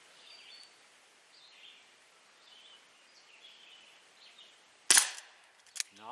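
An ASG Dan Wesson 4-inch CO2 BB pistol fires outdoors during accuracy testing, a sharp loud crack near the end followed by a second smaller snap, over quiet background with faint birdsong.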